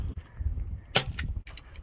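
A Crossman Vigilante air pistol firing a BB, one sharp close snap near the middle, followed by a fainter impact tick, over low background rumble.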